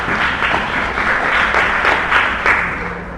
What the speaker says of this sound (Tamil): கைத்தட்டி ஆண்டவருக்கு நன்றி சொல்லுங்க பார்க்கலாம்.